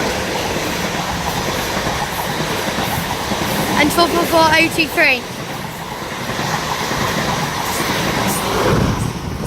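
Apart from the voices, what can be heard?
South Western Railway class 444 train passing through St Denys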